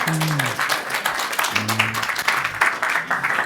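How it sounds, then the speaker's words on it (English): Brisk applause from a small audience fills the moment, steady clapping with a couple of short voices calling out over it. "Big round of applause."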